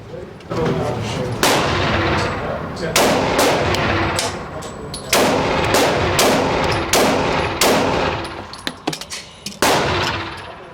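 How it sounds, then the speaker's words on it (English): Carry pistol fitted with a Holosun 407K red dot firing at a range, sharp loud reports spaced one to two seconds apart with a quicker cluster near the end, each ringing briefly. "Now let's shoot this thing."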